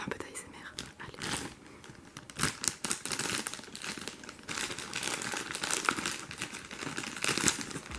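Plastic packaging around a Lipizzan mare toy horse crinkles and tears as it is opened up close, in irregular bursts of rustling and crackling, with quiet speech now and then.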